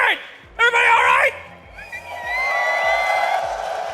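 An esports arena crowd in Berlin yells and cheers at a major tournament, loud and distant, with a host's amplified voice talking over it.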